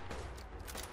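Gunfire in Fallout 4 during survival play, a quick cluster of sharp shots bursting in succession, loud and close, over a dense background of game noise.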